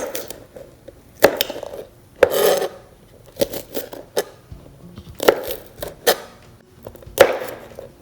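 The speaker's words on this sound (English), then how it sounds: "Then I'm going to chop these green chilies." A knife chops green chillies on a cutting board during Indonesian fried rice prep, giving irregular sharp knocks and scrapes, some grouped in quick bursts, fairly close and moderately loud with no talking.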